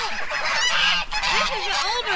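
Several geese honk close by, overlapping nasal calls repeating in a noisy chorus.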